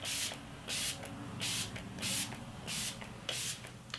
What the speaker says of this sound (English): This is like an illuminating makeup setting spray.